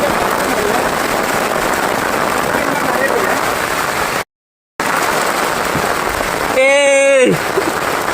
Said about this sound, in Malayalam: ഗായ്സ് നല്ല മഴയാണ് കേട്ടോ.